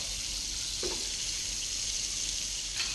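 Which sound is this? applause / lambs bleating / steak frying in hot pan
steak frying in hot pan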